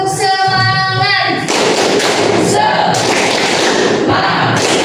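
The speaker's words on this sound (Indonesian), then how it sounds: "Sekali lagi tepuk semangat." A classroom of students performs the rhythmic 'tepuk semangat' spirit clap, a dense burst of many hands clapping together in a patterned beat, loud and close, with voices chanting along through it.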